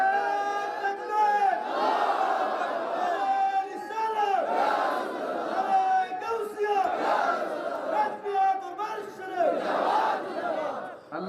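A crowd at a religious gathering chants a slogan in loud, rhythmic unison, with repeated call-like phrases rising and falling steadily throughout.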